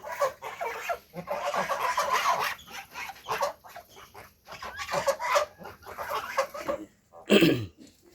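Chickens on a small home farm kept alongside ducks and geese cluck in repeated short bursts at close range, with brief pauses and a louder squawk near the end.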